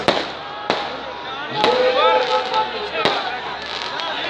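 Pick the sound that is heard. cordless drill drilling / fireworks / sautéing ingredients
fireworks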